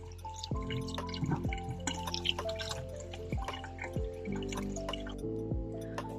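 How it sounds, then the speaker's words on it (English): Potatoes being washed under running kitchen water, with steady splashing and repeated falling drips and tonal plinks against the background flow, close and moderately quiet, with no talking. "Wash the potatoes."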